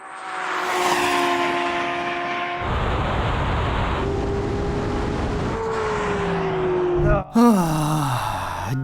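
A BMW M4 CSL and a Porsche 911 launch in a drag race, engines droning loudly and steadily through a gear change, then a brief drop before a sharp, rising high-revving surge.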